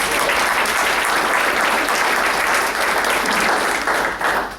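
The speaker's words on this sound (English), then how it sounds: "let's give them a nice round of applause" A luncheon crowd at Oklahoma City University gives a dense, sustained round of applause, loud and even throughout before tapering slightly at the very end.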